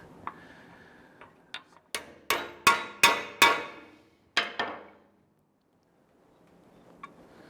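Hammer blows setting rivets to attach new brake pads to the brake shoes of an Allis Chalmers D17 tractor: a series of sharp metallic taps building to about five loud ringing strikes, then quiet with a faint final tap.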